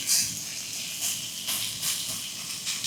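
Meat pressed down on a hot surface to sear, giving a continuous soft hiss with slight swells, heard alone with no talking.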